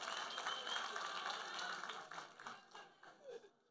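A crowd of delegates at a regional ANC political conference in Tshwane claps and applauds in a dense burst that thins out toward the end, with some voices mixed in.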